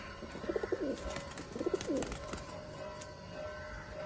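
Pigeons at a loft give two short bursts of soft, throaty cooing, faint and close together, over a quiet background.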